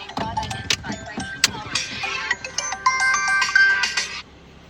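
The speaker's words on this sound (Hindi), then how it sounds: "इनकी भी फोन आ गया" A melodic phone ringtone plays in a bright, chiming pattern inside a car on a road trip, with faint voices and background noise underneath.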